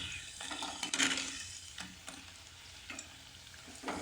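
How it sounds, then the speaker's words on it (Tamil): Pani puri dough discs fry in hot oil, giving a close, continuous crackling sizzle with bursts of popping and stirring scrapes and no voices. "நம்ம இதை எண்ணெயில் ஸ்ப்ரெட் பண்ணி பொரிக்கணும்"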